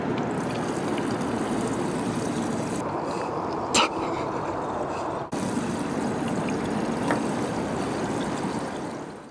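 100-octane race fuel is poured into a Ferrari F430 Challenge race car, a steady, close liquid rush running continuously with a brief clink partway through.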